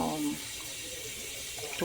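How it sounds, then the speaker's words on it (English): A kitchen tap runs steadily into a teapot, a close, continuous splashing rush of water filling the pot for the whole stretch. "This is water I'm catching in the teapot to put it back on the stove"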